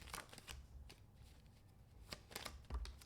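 Tarot cards being shuffled and handled up close, a soft, quiet riffling and flicking with a few sharper snaps of card edges, no talking.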